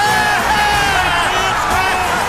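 A snowy Foxborough stadium crowd roars loudly and continuously as the Patriots' field goal is made in the 2001 season, dense cheering and yelling with whoops throughout the short burst.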